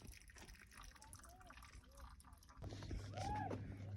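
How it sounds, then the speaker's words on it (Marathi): Spring water gurgles and splashes steadily into a bottle, growing louder and fuller in the second half, with voices murmuring nearby, at Harihar Fort in Maharashtra. "बघा कसं पाणी बाटलीत भरला जाते"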